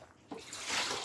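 Water dispensing into a cup from a Samsung Bespoke AI Beverage Center Family Hub refrigerator, a brief close hiss of flow that builds louder and steadier over about a second.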